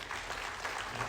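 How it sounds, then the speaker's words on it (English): A dense, steady wash of clapping from a book launch audience in Dubai, continuous and even with no voices standing out. "we should give them a huge round of applause"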